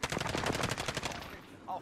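Rapid automatic gunfire in the video game Mini Royal, a close, loud burst of evenly spaced shots lasting about a second and a half before cutting off, followed by a short faint sound.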